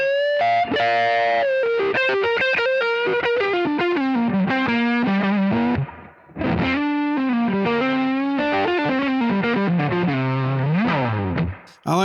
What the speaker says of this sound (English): with the Fender amp and this guitar here, you get a really nice overdriven sound